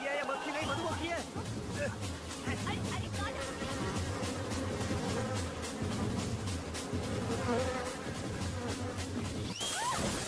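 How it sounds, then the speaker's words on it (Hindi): A honeybee buzzes near people, a steady wavering drone that continues almost throughout, mixed with background voices and music. "ये मक्खी नहीं मधुमक्खी है।"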